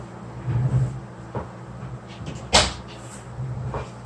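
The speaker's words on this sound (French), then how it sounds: "il y a quelqu'un qui a ouvert ma porte" A door is opened indoors, giving one sharp wooden clack near the middle of the clip, with soft bumps and a low room hum before and after.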